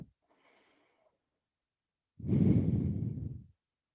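A single long exhale during yoga practice, soft and close, follows a faint earlier breath in an otherwise quiet room.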